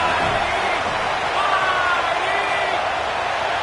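Home crowd in a football stadium keeping up a dense, steady roar and cheer, with faint whistle-like tones rising above the noise throughout.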